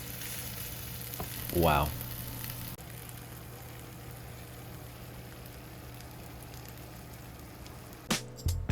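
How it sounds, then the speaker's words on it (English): A baked Detroit-style pizza sizzles in its pan with a constant, fine crackling hiss; a voice briefly exclaims early on, and a few sharp clatters come near the end. "After waiting a moment for the sizzling to stop"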